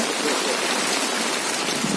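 Heavy rain pouring down during flooding, a dense steady hiss of water close by, unbroken and loud from start to finish.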